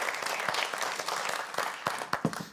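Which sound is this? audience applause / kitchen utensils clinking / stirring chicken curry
audience applause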